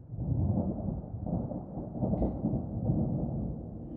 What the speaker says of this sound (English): Did you enjoy the thunder and lightning show outside?